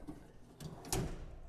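A metal drawer on a Blackstone grill cart slides and bumps shut, an 8 inch welded steel drawer giving a short scrape then a firmer clunk near the end, fairly quiet and close.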